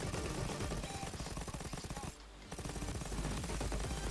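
Campbell LMG fire in a video game, a loud continuous stream of rapid shots with a brief break near the middle before the burst resumes.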